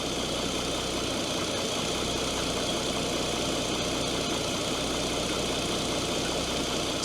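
Opel Omega B V6 engine idling just after its first start following valve cover gasket and spark plug work, a steady, dense broadband rumble with faint light clacking mixed in, continuous and close throughout.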